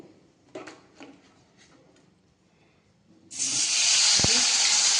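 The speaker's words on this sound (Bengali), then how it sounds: "আবার কড়াতে তেল দিয়ে দিয়েছি এবার আমি টমেটোটা দেব" Tomato drops into hot oil in a kadai, setting off a sudden loud, steady sizzle that holds to the end after a few quiet knocks and faint background sounds.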